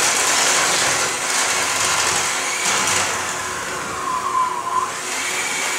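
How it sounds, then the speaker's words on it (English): An electric mixer on medium speed beats butter and granulated sugar in a large bowl, a continuous whirring buzz with brief scraping and rattling bursts near the end. "Beat the butter and granulated sugar in a large bowl with a mixer on medium speed."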